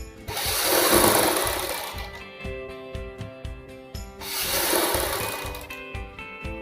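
Sewing machine running a center stitch down the neckline of a suit, in two loud sustained bursts of rapid whirring separated by a stretch of slower, intermittent stitching, with no talking.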